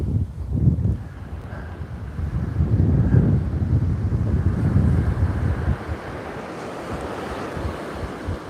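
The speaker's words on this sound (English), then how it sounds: "this wind is really picking up now" Strong wind buffets a surf beach, roaring steadily with crashing waves beneath and gusty rumble against the microphone throughout, no voices present.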